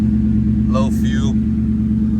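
A 2003 Ford Mustang engine idles with a steady low drone that holds level throughout, while a voice speaks briefly over it.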